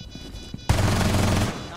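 A gunshot goes off in the tactical shooter Rainbow Six Siege, a sudden loud crack followed by a dense burst of rapid fire lasting under a second, after quieter in-game sounds.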